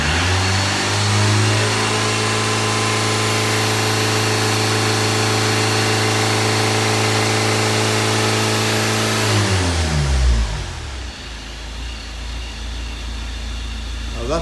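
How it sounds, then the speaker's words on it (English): A Ford Transit van engine with a MAP sensor fault runs at steadily raised revs for about ten seconds, then drops back sharply to a low idle rumble, close and loud throughout. "I'm going to pick the revs up now."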